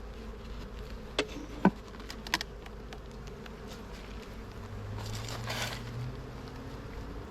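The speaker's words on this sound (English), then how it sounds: "A lot of worker bees are out working." Honey bees buzz steadily around the hive on a warm day, a soft continuous drone with a few sharp clicks and taps early on, fairly close and without talking.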